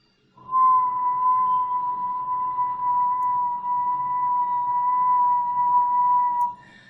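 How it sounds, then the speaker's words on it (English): A single steady whistle holds one mid-pitched tone around 1000 Hz for about six seconds, close and clear against a quiet background, starting and stopping cleanly. "I'm able to whistle at a center frequency of around 1000 Hertz"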